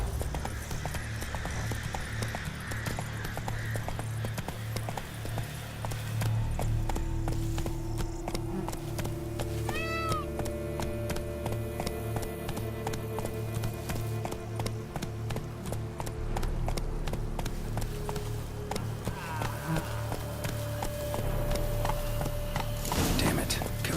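A horse's hooves clip-clop steadily beneath continuous music in The Witcher 3 video game, as the mount moves along under a man's occasional spoken lines.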